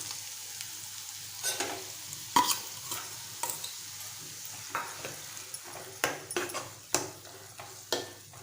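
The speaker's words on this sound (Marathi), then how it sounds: "छान मिक्स करूया।" Onion and coconut paste is stirred with spices in a pan for a Malvani black sprouted vatana usal, giving irregular scraping strokes and clinks over a soft sizzle, close and fairly quiet.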